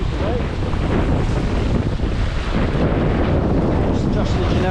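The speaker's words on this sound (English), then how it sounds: "Some wicked gusts coming in. We're fine. Right, we made a start. There's some serious wind today." Strong gusty wind buffets the microphone while sailing under genoa in quartering seas off Scotland, a loud continuous rushing roar with low rumbles, and a voice faintly speaks within it.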